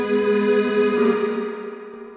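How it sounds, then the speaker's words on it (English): A tonal note processed through the Wash plugin's lo-fi 80s-style reverb with slapback feedback, ringing with a smeared, slightly distorted tail that swells and then slowly fades, heard alone. "You've got wash right here, which is like a pretty crappy sounding 80s reverb that does a really cool job of adding character."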